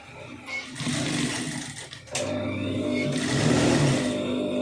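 A sewing machine stitches the side joint of a blouse, running in close, steady bursts of rapid mechanical chatter with a short pause midway.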